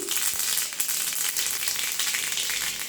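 Mustard seeds sizzle and crackle steadily in hot sesame oil for a Tamil garlic-pepper gravy, a dense continuous fry close up with no talking.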